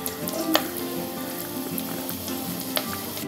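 Coconut and jaggery frying in ghee in a pan, a steady broadband sizzle with occasional sharp clicks of a spoon stirring, close and alone without speech.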